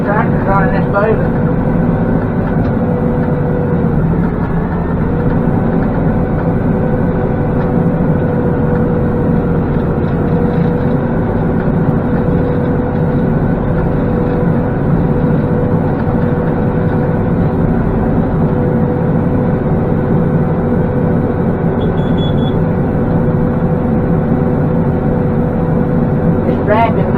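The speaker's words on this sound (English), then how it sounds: "So far I'm impressed with how this tractor's running this baler." A Massey Ferguson 4707 tractor running a hay baler in a field, a steady, loud engine drone with the baler's mechanical churning, heard continuously from the cab.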